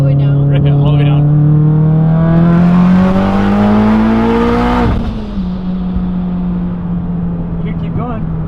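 A car engine pulled hard in third gear toward 8,000 RPM, a loud close whine climbing steadily in pitch before dropping sharply at the shift, with voices over it.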